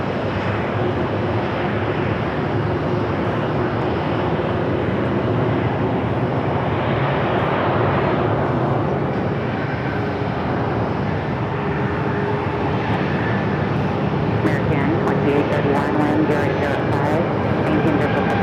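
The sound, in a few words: Delta A330-300 airliner arriving at Phoenix Sky Harbor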